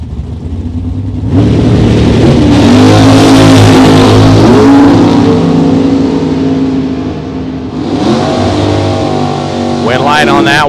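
Drag racing cars, a Chevy Vega and a Camaro, launch down the strip with loud, close engine roars that rise in pitch through the gears, ease off, then surge again, while an announcer talks over them.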